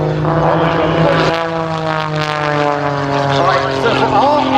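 A propeller airplane flies at a regional airshow in Anderson, South Carolina, its engine droning with strong steady harmonics that shift in pitch as it passes, while an announcer talks over it.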